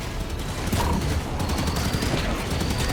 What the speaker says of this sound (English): Turrets! Take cover!